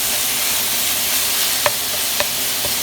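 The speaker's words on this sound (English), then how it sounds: "Okay, so I'm letting it simmer" Ground beef and vegetables for shepherd's pie cook in a non-stick skillet, giving a loud, steady, close sizzle with a few sharp utensil taps partway through.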